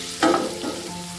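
Pasta cooks in a kadai with a brief burst of close, bright sizzling and stirring that rises sharply, then settles into a softer hiss.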